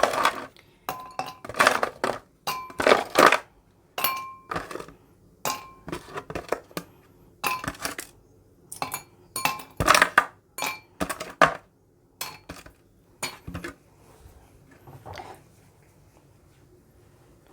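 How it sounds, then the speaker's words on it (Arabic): Ice cubes drop one after another into a glass for prickly pear juice, a long run of sharp, bright clinks, some quick doubles, close and clear with no talk. "هنحط التلج"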